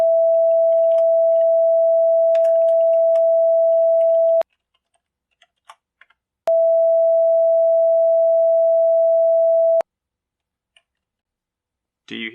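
A pure cosine test tone, generated in software and played back at a scaled-up sampling rate, sounds as a steady unbroken pitch for about four seconds, stops for two seconds of silence, then returns unchanged for three more seconds, with faint clicks around it.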